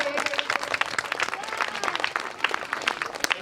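Loud applause from a school-function audience at an English-medium school in Bhiwandi, dense steady clapping for the full few seconds with some crowd voices mixed in.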